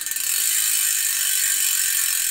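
A Hope Pro 4 rear hub freewheel on a 26-inch freeride mountain bike buzzes as a rapid, continuous high-pitched clicking, steady and close, with no voices.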